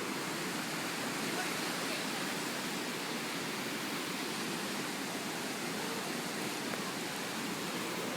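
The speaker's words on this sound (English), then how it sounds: "Bear Creek River is overflowed" Bear Creek in Evergreen, Colorado, overflowing in a flood, with a loud, steady rush of churning water that continues unbroken throughout.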